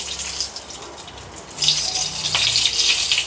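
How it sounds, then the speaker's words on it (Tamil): Mustard seeds splutter in hot oil in a kadai. A dense, close hiss rises and grows louder partway through, with sharp crackles on top and no voices. "எண்ணெய் சூடாகிடுச்சு இதில் கொஞ்சமாக கடுகு சேர்த்துக்கலாம்"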